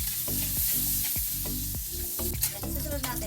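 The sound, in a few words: meat frying in hot oil in a pan for adobo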